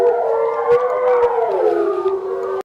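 A pack of wolves howls together, several long overlapping wavering voices that rise and slide down in pitch, loud and close with no talking.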